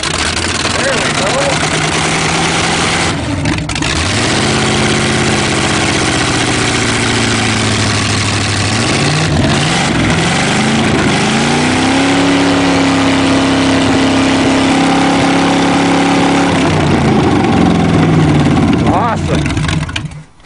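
A Cheviac engine runs at a steady idle after start-up, loud and close, with its pitch rising and falling a few times as the throttle or choke is adjusted. People talk over it briefly.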